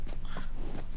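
Hooves of a conjured undead horse in the video game Skyrim, a quick pair of clip-clop steps in under a second against steady background ambience.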